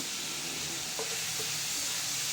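Onion, garlic, ginger, green chili and curry leaves sautéing in a pan for a Kerala-style fish dish, a steady close sizzling hiss with a faint stir or two, no voices.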